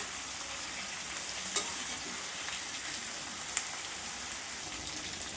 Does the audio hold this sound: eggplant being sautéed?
yes